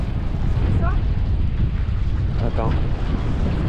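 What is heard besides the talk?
wind gusts on a sailboat at sea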